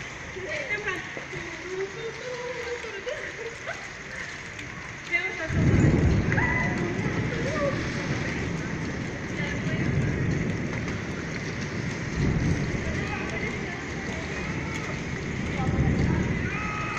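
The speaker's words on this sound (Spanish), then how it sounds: "Y ahora empieza a llover otra vez." Heavy rain pours steadily during a powerful thunderstorm in Madrid, with low rumbling thunder swelling several times over the continuous downpour; a voice is briefly audible early on.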